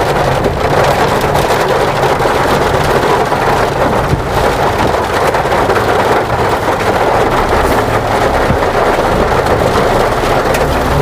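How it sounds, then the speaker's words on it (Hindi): Heavy storm rain pours down on a road in Agra during a violent thunderstorm, a dense, loud, unbroken hiss mixed with rumbling wind buffets throughout. "अब बरसात भारी मात्रा में तेज़ी से अपनी तेज़ी पकड़ चुकी है।"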